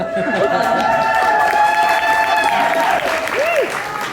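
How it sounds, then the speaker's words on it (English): An audience at a book event at Washington Hall in Seattle claps and cheers in a sustained, full-room burst of applause, with some chatter and voices rising through it. "Okay, we can keep clapping. I do not mind. We can keep clapping. I do not say no to applause."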